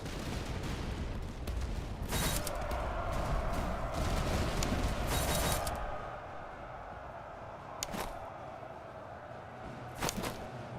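A musket volley in the Master of Command video game: dense crackling gunfire rolls continuously for several seconds, then thins to scattered single shots against a steady battlefield rumble.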